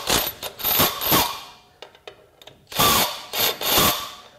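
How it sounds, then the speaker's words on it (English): An impact wrench in loosen mode hammers on a 13/16 socket over a stuck bolt, giving two loud rattling bursts close up, separated by a brief pause with light clicks. "So I'm gonna put this on my impact wrench. I'm gonna put it in loosen and we'll see."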